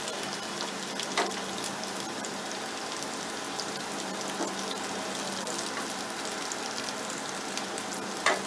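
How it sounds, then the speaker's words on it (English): Steady crackling sizzle of Bengali lentil dumplings (dhoka) frying in hot oil, with occasional louder pops over a continuous bubbling hiss. "You can see in hot oil, and now we will just fry them properly."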